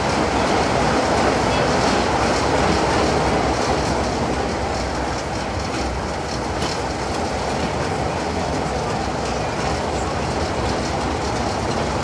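A train hauled by Class 60 diesel locomotive 60029 rumbles steadily along the rails on the South Devon Railway for the whole stretch, loud and close, with a continuous roar and faint rhythmic clatter.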